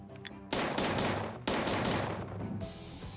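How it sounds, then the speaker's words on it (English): Scorpion machine gun firing in two loud sustained bursts of full-auto fire, each starting abruptly and rolling on with dense rapid shots, close and dominant with no talking. "it can fire single shots, 3-round bursts, or empty its magazine in full auto"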